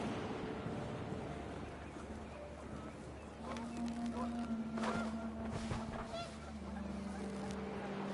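Wind picks up in a game scene, a steady broadband rush with gusty swells, while goose-like honks and tonal calls drift through the middle and later part.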